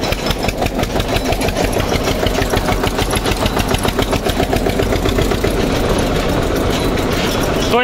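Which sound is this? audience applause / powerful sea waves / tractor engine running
tractor engine running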